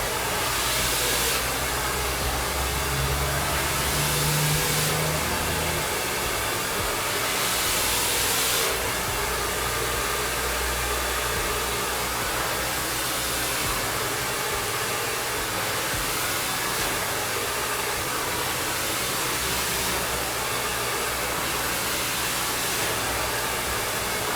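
A hair dryer blows continuously at close range while blow-drying hair smooth for a silk press, a loud steady airy whoosh with slight shifts in pitch as it moves.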